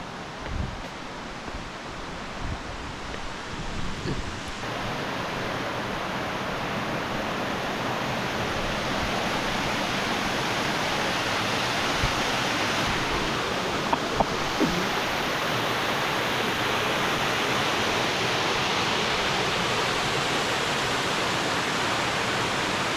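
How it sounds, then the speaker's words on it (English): Waterfall at Wheeney Gap near Sydney, a constant loud broadband roar of falling water with a few faint knocks early on, steady throughout and no talk. "let's go check out this waterfall."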